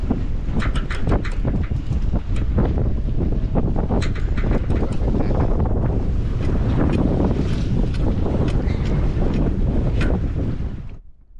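A small sailboat runs before the wind with two people handling the tiller and sails, the sound dominated by heavy, constant wind buffeting on the microphone over rushing water and hull noise, cutting off abruptly at the end.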